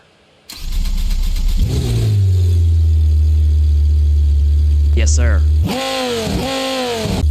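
A custom ETK drag car with a 4.8-liter V10 diesel engine in BeamNG.drive cranks to life and settles into a loud, deep, steady drone. It then revs up sharply near the end while a voice speaks briefly.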